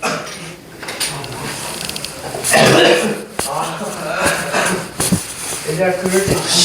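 Several harsh bursts of coughing, close and fairly loud, spread over a few seconds with some background movement and noise between them.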